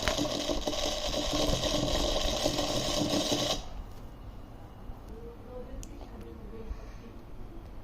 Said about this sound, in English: So when we'll turn on this vacuum cleaner, then it will suck the thermocol balls from the air inside.